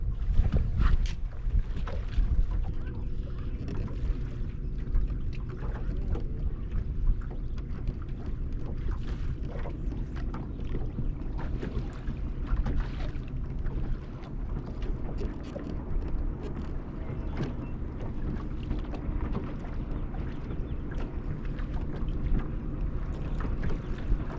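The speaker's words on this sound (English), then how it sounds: "This wind is awful." Strong wind on Lake Talquin buffets a fishing boat during a crappie tournament, a loud continuous roar of gusts and microphone rumble with faint water lapping and no talk.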